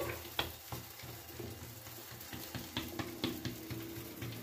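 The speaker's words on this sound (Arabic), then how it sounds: "كنقلب المسمنه ديالي، كنرشها بشويه الزيت" Moroccan msemen flatbread sizzling in oil in a pan, a soft continuous frying hiss with small irregular crackles and pops, close but fairly quiet, no voices.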